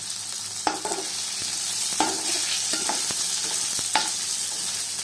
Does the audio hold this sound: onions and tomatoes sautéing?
yes